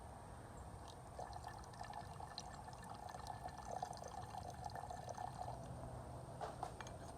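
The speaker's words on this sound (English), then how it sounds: "I'm going to add about 100 milliliters of nitric." Nitric acid is poured into a stockpot during a refining process, giving a faint, steady trickling and splashing sound with no one speaking.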